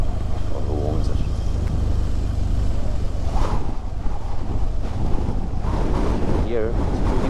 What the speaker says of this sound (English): Here it's pretty windy.